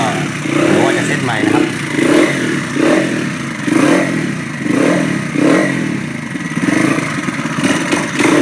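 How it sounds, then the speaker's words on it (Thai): Exhaust of a Honda Beat converted to a dirt bike with a Sonic engine, modified cam and carburetor, idling close by with a rhythmic pulsing throb and light revs, someone talking over it. "ครับเป็นเสียงท่อนะครับอันนี้"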